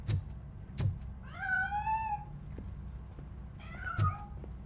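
A cat in the video game RoboCop: Rogue City gives a drawn-out meow, then a second shorter one a couple of seconds later. Both sound moderately close over a low hum and a few soft knocks.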